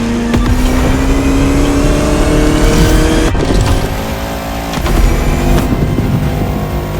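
The engine of a Bugatti La Voiture Noire in The Crew Motorfest roars loud and close throughout. It holds a strained high-revving note with a brief shift-like dip midway before climbing again.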